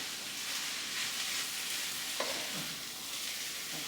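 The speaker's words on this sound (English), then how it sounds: "So we're cooking that right into the wok along with the okra." Okra stir-fries in a wok with a steady, dense sizzle and hiss, broken by a couple of brief scraping stirs partway through; no one speaks.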